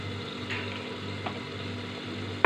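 Taro (kochu) pieces go into a pan for a fish curry, giving a steady, even hiss of sizzling or bubbling liquid that runs through the whole stretch, with a sharper clatter right at the end.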